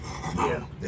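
A dog lets out a brief, low whining growl up close, a single drawn-out vocalization lasting under a second.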